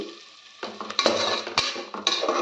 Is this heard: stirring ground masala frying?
yes